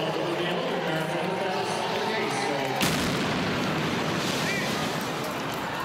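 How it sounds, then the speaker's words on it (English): A street blast from the Boston Marathon bombing on Boylston Street near the finish line, in news footage: a sudden loud boom cuts through steady crowd and outdoor noise, followed by a sustained roar of commotion. "two separate explosions along Boylston Street as the runners streamed across the finish line"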